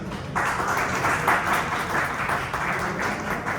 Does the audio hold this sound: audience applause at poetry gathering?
yes